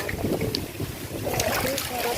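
Wind gusts buffet the microphone, a low rumbling roar outdoors under overcast skies in rural Occidental Mindoro, Philippines, with people talking faintly underneath in Filipino.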